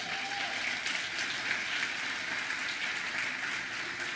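Congregation applause during a church service, a steady dense wash of clapping that holds evenly from start to finish with no voices on top.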